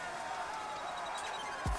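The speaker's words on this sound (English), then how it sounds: "The cheering is actually louder than the music." A steady wash of crowd cheering from the video game Final Fantasy XIV fills the whole stretch at an even level, with a single low thump near the end.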